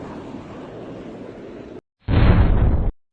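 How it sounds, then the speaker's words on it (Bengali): A thrown magic ball blasting apart in an animated cartoon, a loud booming roar that follows a duller rumble and a brief silence, then cuts off sharply. "হঠাৎ বলটা ব্লাস্ট হয়ে যায় আর সারা পৃথিবীতে সেটার প্রভাব পড়ে"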